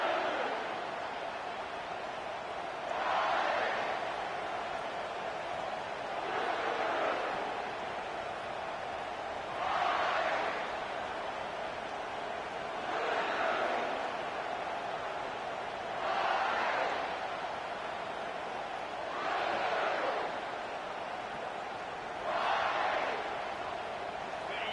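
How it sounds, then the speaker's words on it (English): Stadium crowd in a college football video game, LSU versus Kentucky, a constant loud roar of cheering with rhythmic surges swelling every few seconds like chanting, steady and dense throughout. "This crowd bringing an ear-splitting welcome to their visitors."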